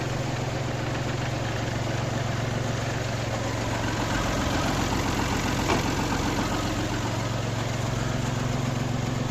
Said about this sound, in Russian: Вторая передача. Фреза работает тихо.